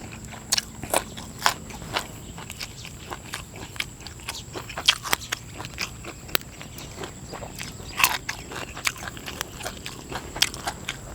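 Crisp food bitten and chewed up close, a steady run of sharp crunches and crackly bites repeating irregularly throughout, with no talking.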